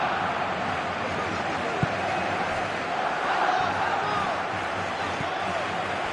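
Steady stadium crowd roar from the football video game PES 2016, a constant broad wash of cheering and chanting with a couple of sharp thuds, held at even loudness throughout.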